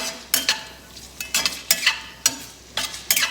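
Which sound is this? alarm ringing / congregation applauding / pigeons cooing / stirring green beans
stirring green beans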